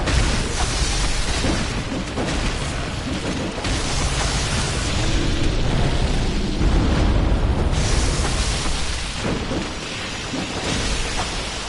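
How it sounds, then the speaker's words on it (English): Enemy explosion attacks in the video game Bloodborne rumble as dense, continuous booms that swell and recede over roughly twelve seconds, with no talk. "You want to avoid the explosion attacks like that."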